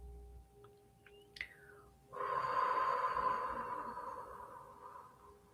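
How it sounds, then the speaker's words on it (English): One long, slow exhale through the mouth at the start of a meditation practice, a soft breathy rush that swells, holds and gradually fades, after a short sharp intake and a few faint background sounds. "always begin a meditation practice with a big exhale through the mouth"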